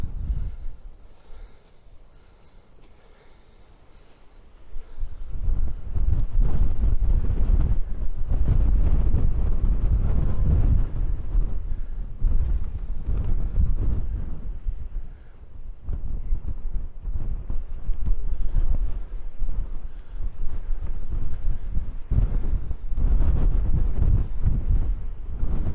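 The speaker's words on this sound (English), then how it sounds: "Blowing an absolute gale up here." A strong gale blowing across a hilltop near a partly ruined church, loud continuous gusting and buffeting the microphone, easing briefly then roaring back with rumbling surges, no voices.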